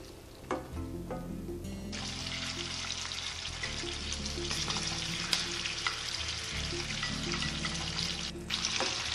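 Broccoli and tomatoes simmer and fry in a pan with a steady, close sizzle, broken by a few spoon clinks and stirring scrapes, with a short splashy burst near the start.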